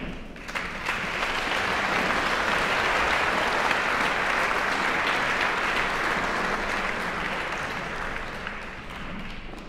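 Steady, dense applause from a concert audience greeting a Riga school choir, swelling quickly and holding loud and even for several seconds before easing slightly, with no voices over it.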